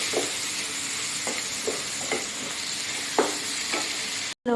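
Tomatoes frying in a hot pan for a Kerala-style tomato chutney, a steady sizzle with several distinct scrapes of a spoon stirring through it, close and continuous, ending in a brief cut.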